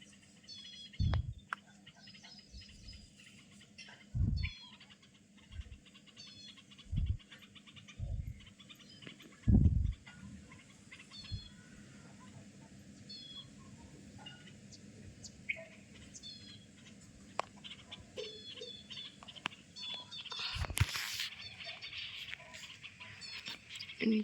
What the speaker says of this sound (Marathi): आणि चिमण्या चिवचिव करत आहेत